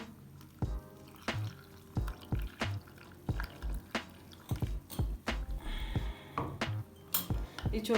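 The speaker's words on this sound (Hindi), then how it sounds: "अब मैं इसमें 1 कप पानी डालूँगी, इसको हम मिक्स कर लेंगे।" A metal spoon stirs a cup of water into two to three tablespoons of wheat flour in a bowl, giving repeated clinks and wet scraping taps in an irregular rhythm, close and clear, with no talking.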